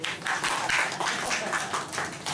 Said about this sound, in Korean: 박수를 치면서 한번 해보시죠